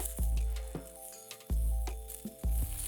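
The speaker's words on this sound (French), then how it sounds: "Nous finissons frire un côté." Fish fillet frying in a pan, one side browned before turning, gives a steady close sizzle broken by several sharp clinks and knocks of utensils against the pan.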